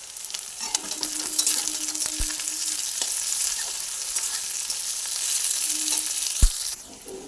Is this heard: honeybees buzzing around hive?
no